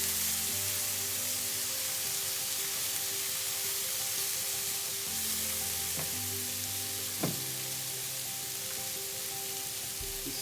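Vegetables and a vegan burger sizzle steadily in a hot pan, a dense continuous frying hiss with faint crackles and a brief clink, close and loud without talk.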